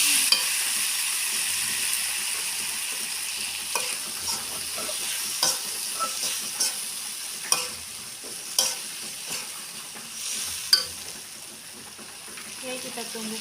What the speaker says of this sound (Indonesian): Aduk-aduk lagi.